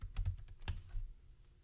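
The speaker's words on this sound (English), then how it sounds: "enter in your computer password." Someone types a computer password on a keyboard while installing screen-printing software: a short burst of close, crisp key clicks, with one louder keystroke near the end.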